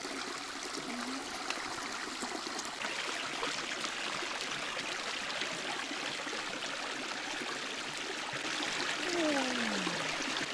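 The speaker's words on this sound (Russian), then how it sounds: "это горная речка" A mountain river runs through a canyon with a continuous broad rushing and trickling of water, steady and fairly near, with no voices over it.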